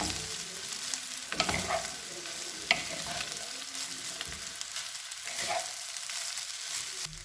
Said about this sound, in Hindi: चावलों को अब अच्छी तरह मिक्स करना है ताकि सारी सब्ज़ी अंडा जो है वो चावलों में मिक्स हो जाए।